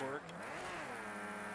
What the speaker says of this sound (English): I just hear you randomly downshifting to try to get some torque.